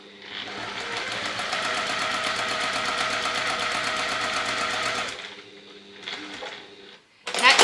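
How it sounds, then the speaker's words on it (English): A sewing machine stitches quilt fabric pieces in a steady, fast mechanical whir for about five seconds, then stops. Quieter handling follows and a brief burst of stitching resumes at the end. "placing that under the machine and stitching on that line."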